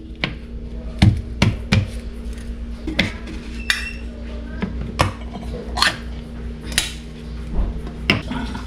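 Garlic sliced with a knife on a cutting board, sharp irregular taps and clicks spread across the clip over a steady low hum, with occasional dish clinks nearby.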